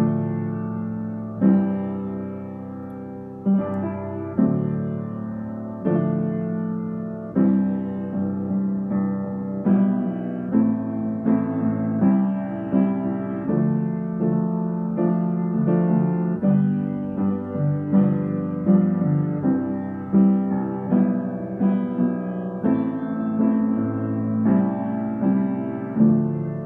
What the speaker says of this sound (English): I'm gonna play a little bit of the intro for you guys, and a little bit of the verse